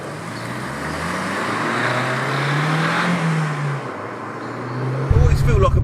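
A Vauxhall Corsa VXR Nurburgring engine drones and rises in pitch as it accelerates, then a louder rumble kicks in near the end; a voice briefly speaks over it.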